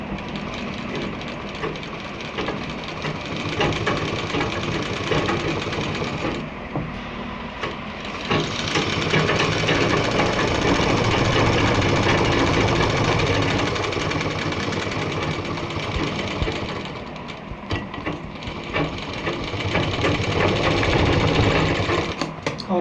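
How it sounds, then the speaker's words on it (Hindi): A sewing machine runs in long continuous bursts, stitching along the buckram at the base of a gents' kurta collar, its rapid mechanical chatter up close, pausing briefly before resuming, with no talk over it. "बुकरम की जड़ में सिलाई लगाते जाएंगे"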